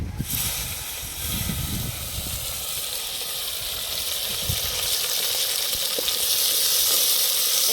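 Onions frying in hot oil with spluttering mustard seeds, fenugreek and cumin for a traditional kuzhambu, giving a steady, close, loud hiss and sizzle throughout with no talk.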